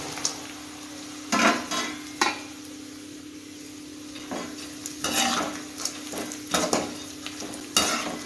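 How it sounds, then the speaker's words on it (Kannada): Half a kilo of almond pieces frying in hot ghee for a dry fruit laddoo, a continuous sizzle broken by repeated scraping and clinking stirs of a utensil against the pan, close and fairly loud. "ತುಪ್ಪ ಸರಿ ಕಾದಿದೆ ಬಾದಾಮಿಯನ್ನು ಅರ್ಧ ಕೆ ಜಿ ಬಾದಾಮಿ ಪೀಸಸನ್ನು ಹಾಕ್ತಾ ಇದ್ದೇನೆ"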